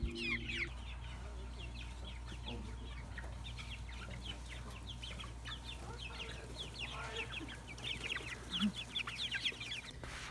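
Heritage chickens in a brooder keep up steady clucking and chirping throughout, close and moderately loud over a constant low hum, with no talking.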